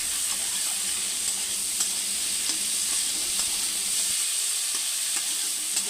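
Potatoes frying and being stirred with spices in a pan for a curry, a steady close sizzle with scraping stir sounds throughout and no talking.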